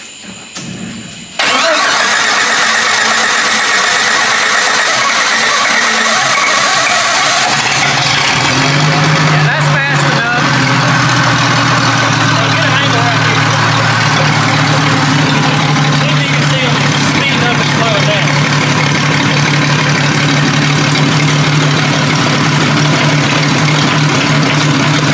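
A vehicle engine in fifth gear cranks briefly and then catches, settling into a loud, steady running drone that carries on to the end.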